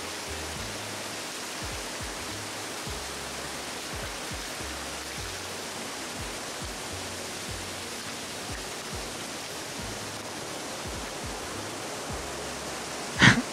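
Steady, dense rush of water from Devkund waterfall in the Tamhini Ghat, flowing heavily; a broad, even roar continues throughout with no talk.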